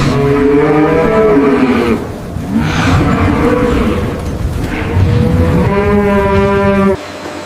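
Black Limousin cattle moo inside a barn. Several long, loud, close bellows overlap and follow one another, with a deep drawn-out call rising at the end.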